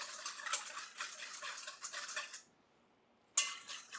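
A whisk stirs a sugar mixture in a bowl with steady rhythmic scraping and tapping against the sides, close and fairly loud, pausing briefly before resuming.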